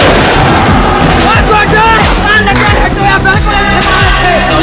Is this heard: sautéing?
no